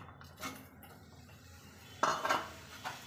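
Potatoes and peanuts stirred in a pan with curry leaves for sabudana usal, giving a few clinking scrapes of a spoon against metal, one louder burst midway, fairly close with no talking.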